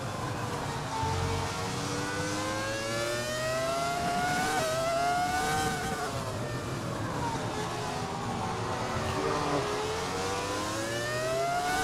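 A Ferrari F2004 Formula 1 car engine screams in F1 2020, its high-pitched note rising and falling steadily through gear changes and revs, loud and continuous with no talk.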